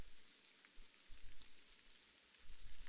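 Rain falls in the video game a2: a due, a quiet, even hiss of drops with soft low rumbling swells that rise and fade, and no talking.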